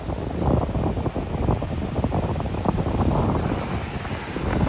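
Continuous rumbling wind buffets the microphone while Pacific Ocean waves wash in steadily beneath it, loud and close, with no voices.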